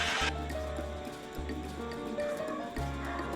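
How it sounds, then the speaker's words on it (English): A horse neighs and its hooves clip-clop in a steady rhythm, close and clear, repeating in short bursts. "H for horse."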